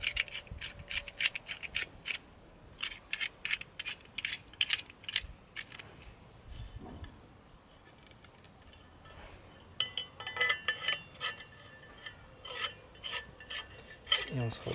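Metal parts of a multi-function shovel being screwed together by hand, giving close, irregular clinks, taps and scraping clicks that come in busy bursts with brief quieter pauses.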